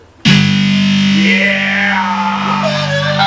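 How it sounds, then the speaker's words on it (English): Metal distortion guitar preset on a MIDI keyboard in Mixcraft: one loud, heavily distorted chord struck suddenly and held, buzzing and sustaining with a gritty, saturated tone until the end. "Here's metal distortion."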